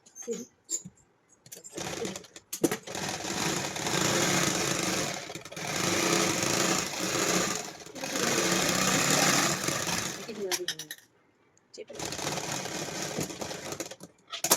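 A sewing machine stitches trousers in several whirring bursts of a few seconds each, broken by short pauses.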